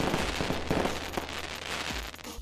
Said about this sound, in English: Sound should be coming through, as well as fireworks